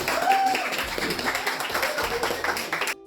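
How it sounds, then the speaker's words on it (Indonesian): A group of children clapping together in a classroom, with chatter and voices mixed in over the patter of hands. "kasih tepuk tangan ke Sidi"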